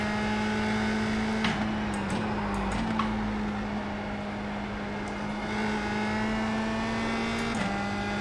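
Engine of a USF 2000 race car on a track, a steady loud drone held throughout that dips briefly with short gear-change blips, heard close from on board.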